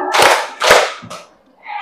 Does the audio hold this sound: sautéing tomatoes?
no